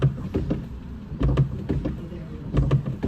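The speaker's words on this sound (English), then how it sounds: "We've got some dodgy sounding wipers going on here." Faulty windscreen wipers on a cheap Renault Clio sweep back and forth in a steady rhythm, each pass giving a rough, groaning scrape and thump that repeats about three times, close and fairly loud.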